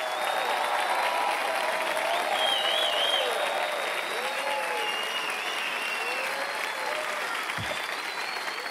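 Steady crowd applause at a live comedy festival show, dense and continuous for several seconds, with faint voices and a brief thump near the end.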